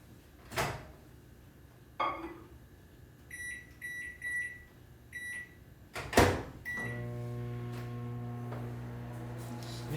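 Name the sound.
microwave oven running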